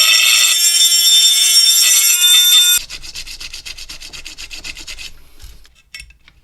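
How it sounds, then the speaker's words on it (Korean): Sandpaper scrapes hard and continuously across the metal input jack of a DIY guitar pedal, loud and close, then gives way to quieter, uneven rubbing strokes. "안쪽 쇠가 드러날 때까지 사포로 좀 긁어줘야 됩니다"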